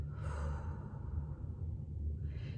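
A person exhales slowly during a guided breathing exercise, a single soft, airy breath close to the microphone lasting a couple of seconds.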